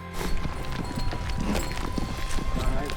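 Hooves of herded mules or horses clopping and shuffling on the ground during an outfitter training camp, a busy continuous patter of many hoofbeats, fairly close, with faint voices mixed in.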